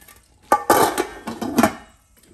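A lid set onto a cooking pot of seafood boil, several close metallic clatters and clanks in quick succession before settling quiet.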